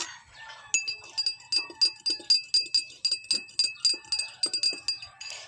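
A spoon stirring blue ternate tea in a glass, ringing out in quick rhythmic clinks, about a dozen bright metallic taps in steady succession, close and clear over a quiet background.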